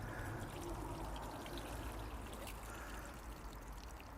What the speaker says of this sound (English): do a water test, see what difference it makes with the water behaviour.